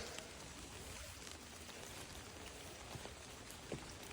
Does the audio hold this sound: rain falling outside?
yes